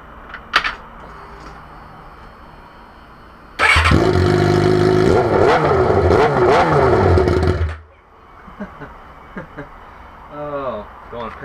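A 2007 Suzuki GSX-R 600 motorcycle with no exhaust fitted starts up and revs hard for about four seconds, loud and close with a raw, rasping roar, then cuts off abruptly, followed by faint background noise.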